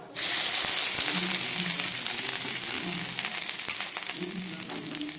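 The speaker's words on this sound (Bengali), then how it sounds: "এবার দিয়ে দিচ্ছি গ্রেট করা আদা" Grated ginger goes into a pan of spices frying in oil with cardamom and cloves, giving a soft, steady sizzle with faint stirring scrapes, fairly quiet and close, without speech.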